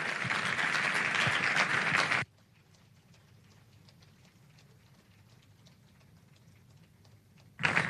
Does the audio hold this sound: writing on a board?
no